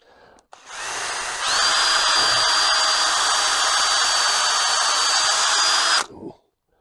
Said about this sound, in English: I just square this timber up and I'll drill this